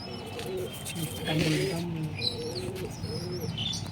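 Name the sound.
pigeons cooing, imported Madras and Giribaz pigeons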